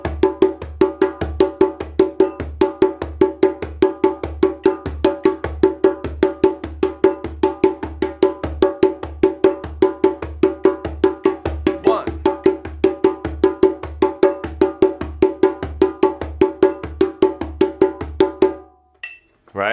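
A drum groove in triplet feel with the bass drum on the second note of each triplet, steady syncopated hits repeating evenly and clearly for the whole stretch before stopping abruptly.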